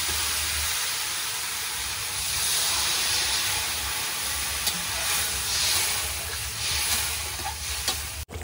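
Water poured into a pan of sautéed ground spices with black pepper hisses and steams, a continuous sizzle swelling and easing with occasional stirring clinks nearby.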